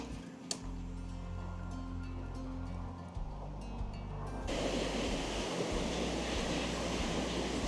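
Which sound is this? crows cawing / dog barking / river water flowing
river water flowing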